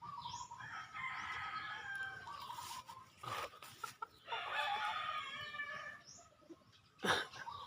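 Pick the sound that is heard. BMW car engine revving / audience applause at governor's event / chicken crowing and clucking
chicken crowing and clucking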